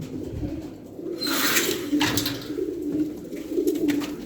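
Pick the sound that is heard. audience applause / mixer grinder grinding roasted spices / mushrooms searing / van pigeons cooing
van pigeons cooing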